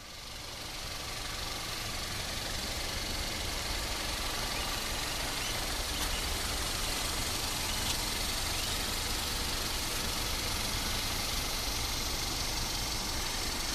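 A turbocharged four-cylinder engine idles steadily, a constant close rumble with a faint mechanical hiss, unchanging throughout and with no voices.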